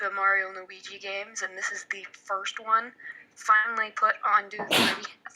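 A single sharp sneeze bursts out near the end, close and loud, right after a stretch of steady conversational talk.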